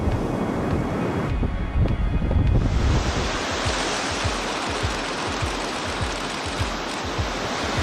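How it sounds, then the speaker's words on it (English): Ocean surf rolling onto shore at sunrise, steady broadband wash with repeated low thumps of breaking sets, loud and continuous with wind noise on the microphone. "got great sets of waves rolling in"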